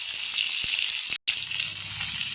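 Potatoes fry in hot oil in a pan, giving a close, steady hiss and sizzle with scattered crackles and one brief dropout partway through.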